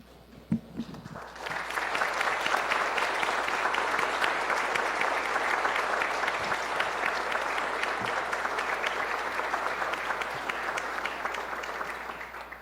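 Applause erupts in a municipal council chamber in Itupe after a brief quiet moment, a sustained crowd clapping that holds steady and slowly thins toward the end.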